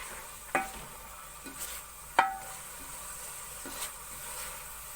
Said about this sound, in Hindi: और फलियों को थोड़ी देर भून लूंगी।